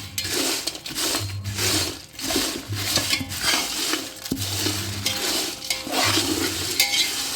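Whole garam masala spices being dry-roasted in a pan and stirred, giving steady scraping and rattling with rhythmic stirring strokes and a faint low hum, close and continuous with no talk.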